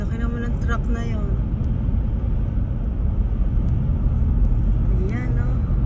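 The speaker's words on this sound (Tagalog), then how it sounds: "Laki naman ng truck na yon." A big truck passes on a road in Georgia, USA, making a loud, steady low rumble that fills the whole stretch, with a person talking briefly over it.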